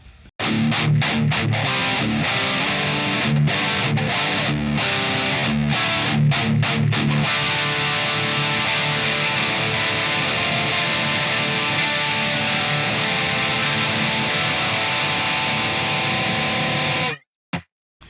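A heavily distorted electric guitar plays a thick, crunchy, sustained tone with bright edges, loud and continuous for a long stretch before cutting off.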